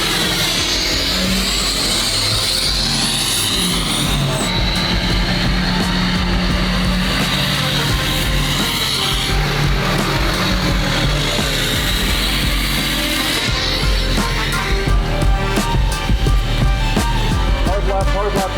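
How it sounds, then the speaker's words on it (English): A Hummer towing a Ferrari 599 makes a continuous loud engine and road roar with some revving, close up and filling the whole stretch, with no clear talk over it. "We're gonna tow the 599 with the Hummer."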